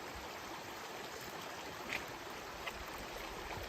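Steady rushing of a mountain stream in Idaho backcountry fills the scene, a constant broadband wash with a couple of faint splashes.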